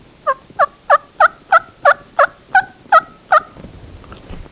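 A mouth diaphragm turkey call imitates a turkey hen's soft yips, about ten short evenly spaced notes in a quick steady run, close and fairly clear, then quiet.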